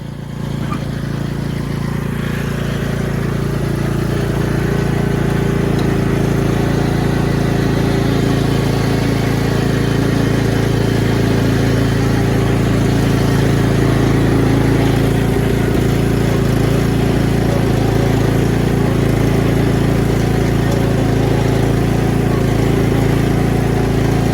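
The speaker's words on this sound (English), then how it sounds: "We got our core aerator out again." A core aerator's small engine runs on a lawn, a loud, constant droning hum with a steady low rumble that swells slightly after a few seconds and holds for the full length, without talking.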